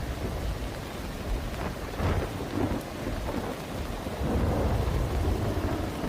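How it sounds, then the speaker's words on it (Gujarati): Heavy monsoon rain pours steadily in Ranavav, Porbandar district, Gujarat, with water rushing through the streets and low rumbles of thunder rolling beneath the dense, unbroken hiss. "ધોધમાર વરસાદ જોવા મળી રહ્યો છે"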